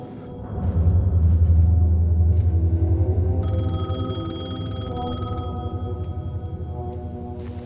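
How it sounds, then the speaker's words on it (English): A payphone rings in Alan Wake 2, a loud electronic ringing tone repeating over a deep rumbling game ambience that continues throughout. "payphone was ringing"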